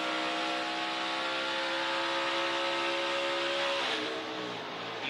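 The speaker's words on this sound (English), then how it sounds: "his engine does blow up right there" A NASCAR Xfinity Series race car's engine blows up during the 2024 Pacific Office 147 race. A loud, steady, droning engine tone holds and then breaks and shifts near the end, over constant track noise with no talk.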